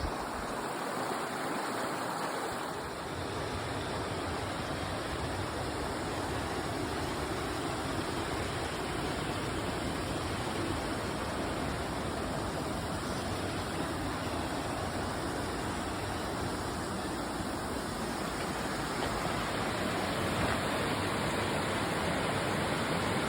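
Little Missouri Falls roars continuously, steady rushing water heard from nearby, a broad even hiss with no voices.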